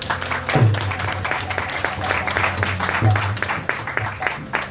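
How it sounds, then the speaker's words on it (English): An audience at a kirtan in Hamilton, Ontario applauds sister-in-law Radha, a backup vocalist, with a round of clapping beneath lingering low tones and some faint voices. "Let's give her a round of applause."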